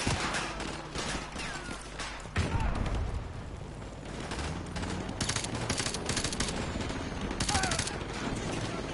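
Dense gunfire crackles through a Call of Duty Modern Warfare II Remastered match, with rapid automatic bursts and loud close shots running continuously, a heavy boom near the start.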